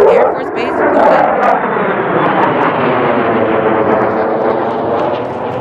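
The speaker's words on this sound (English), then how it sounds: "These aircraft are from the 95th Fighter Squadron, 325th Operations Group, 325th Fighter Wing, Tendo Air Force Base, Florida." Military fighter jets from the USAF 95th Fighter Squadron fly over a Basic Military Training graduation ceremony, producing a loud, sustained broadband jet roar that swells and persists throughout without any break.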